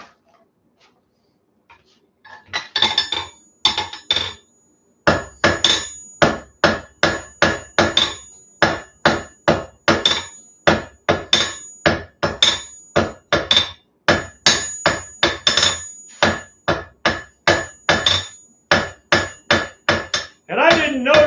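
Blacksmith's hammer striking an anvil while forging a coal rake: a long series of sharp metallic blows, close and loud, in quick rhythmic bursts with brief pauses between groups and a short voice at the end.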